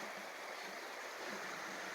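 Steady broadband rush of the Gila River flowing at an early-morning campsite, continuous and close with an even, unbroken wash and no voices.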